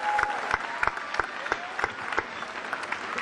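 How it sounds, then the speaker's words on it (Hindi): Schoolchildren at an annual school sports day clap in rhythmic, evenly spaced unison beats, about three per second, moderately close and fairly loud, with a faint voice underneath. "जोरदार तालियां बच्चों।"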